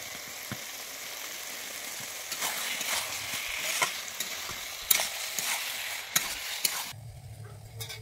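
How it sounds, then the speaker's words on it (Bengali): Fried ridge gourd and potato being stirred in a hot pan with a steady sizzle and a scraping spatula, the sizzle dropping off near the end. "এবারে দিয়ে দিচ্ছি আমি যে ভেজে রেখেছিলাম ঝিঙে আর আলুটা, আমি দিয়ে দিচ্ছি, দিয়ে আমি ভালোভাবে নেড়ে নিচ্ছি"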